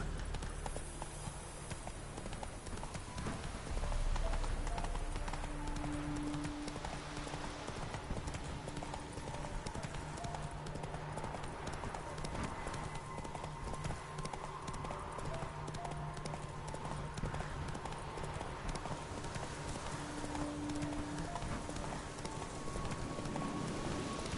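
Roach the horse gallops through Velen in The Witcher 3, a continuous rapid clip-clop of hooves on the ground under dense ambient game sound, steady and fairly loud throughout.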